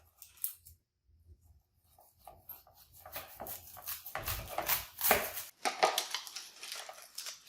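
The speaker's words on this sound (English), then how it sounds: "we're going to take your onion and we're going to cut it down the middle" Knife slicing an onion in half on a cutting board: a scattered series of short crisp cuts and crunches, sparse at first, then denser and louder in the second half, with no talking.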